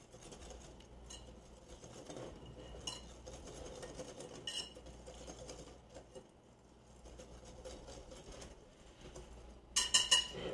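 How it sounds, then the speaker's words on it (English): Muffin batter being whisked in a bowl, faint light taps and scrapes of the whisk against the sides, with a louder burst of quick clinking near the end, no talking. "Whisk this up."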